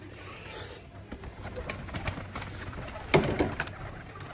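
Pigeons kept by a breeder coo and rustle nearby in a loft, soft murmuring calls with a louder burst of cooing and flapping near the end.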